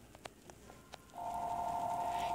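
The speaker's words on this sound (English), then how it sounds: "the phone is ringing" A telephone ringing during a Modern Combat 5 online match, a steady electronic ring tone starting midway after a few soft clicks, clear and fairly close, with no talking.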